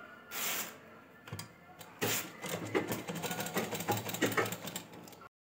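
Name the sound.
sewing machine stitching piping onto a ghaghra belt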